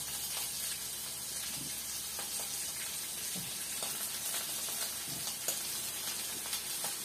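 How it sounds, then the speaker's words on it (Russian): Meat sizzles in a frying pan with onion and carrot added for a kharcho soup base, a steady close hiss with occasional soft stirring knocks and no talking. "И жарится мясо дальше."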